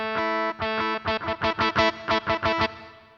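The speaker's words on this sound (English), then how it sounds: "I'm going to go with the distortion guitar" A distorted synth guitar from a 1992 Roland SC-33 MIDI module plays a sustained note, then a quick run of short, choppy repeated notes, loud and alone, with a slight trailing decay.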